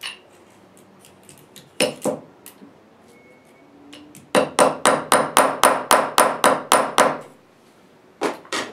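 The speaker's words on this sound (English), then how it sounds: "once you've finished the hammering, you may need to straighten everything out" A copper formfolded snowflake holiday decoration is hammered in close, loud metallic strikes: a couple of early taps, then a steady rapid run of about a dozen even blows, and a final pair of hits.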